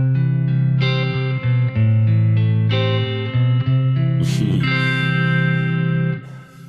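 Electric guitar played through a Kemper Profiler, a subtle micro pitch effect adding shimmer, sustained chords and ringing notes with a bright, clear sound, played alone and fading out at the end.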